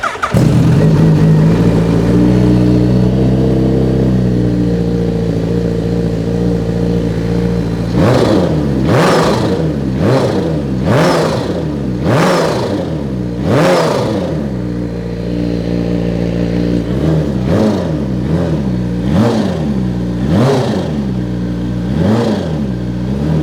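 A 250cc Honda motorcycle engine idles steadily, then rises through a string of sharp, high-pitched revs toward very high rpm, with two bursts of quick repeated blips, close and loud with no talk.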